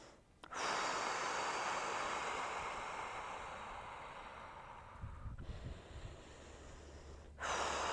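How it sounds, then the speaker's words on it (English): Slow, deep breaths during a yoga session, a long drawn inhale-exhale swell of breath close to the mic with soft surf-like hiss and a quieter pause before the next breath begins. "Another deep breath. Three more deep breaths."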